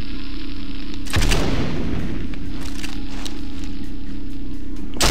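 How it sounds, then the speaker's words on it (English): A heavy grenade blast in the PC shooter 007 Nightfire, one loud booming explosion about a second in, followed by a decaying rumble over a constant game background drone. "Now I'm just needlessly throwing grenades."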